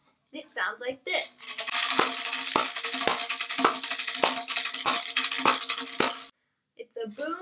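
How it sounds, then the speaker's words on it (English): A tambourine shakes for several seconds, bright metallic jingles with regular accented hits, between short bits of speech. "I have the tambourine. It sounds like this."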